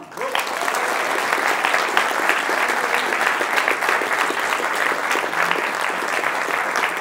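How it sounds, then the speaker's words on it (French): Audience applause welcoming a film critic at a masterclass, loud sustained clapping from a large crowd that starts abruptly and continues evenly for seven seconds. "Mesdames et messieurs, merci de l'applaudir."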